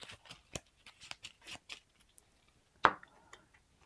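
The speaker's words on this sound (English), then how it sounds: "And then shuffle this into a deck." Cards are shuffled into a deck during a Marvel Champions card game session: a quiet series of short, crisp riffling and tapping bursts at an uneven pace, with one sharper snap near the end.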